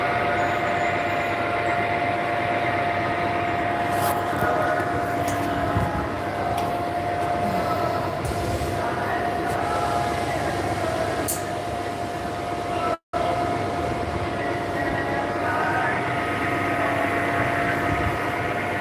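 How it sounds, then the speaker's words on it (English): A train passes close by on its tracks, a steady loud rumble and rattle of wheels and railcars sustained throughout with a brief cut near the end. "Because that train comes like real close."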